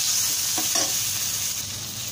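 A quarter capsicum tossed into a frying pan for mushroom pepper fry, giving a steady close sizzle with a couple of brief stirring scrapes near the start.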